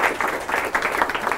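Lecture audience at the University of Arizona applauding, a dense, steady wash of many hands clapping at moderate loudness with no break.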